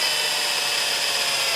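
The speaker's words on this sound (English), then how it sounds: "Consider a drill bit spinning through wood." A power drill bit spins through wood, giving a steady, bright whirring hiss that holds level and unbroken for the whole moment, with no voices.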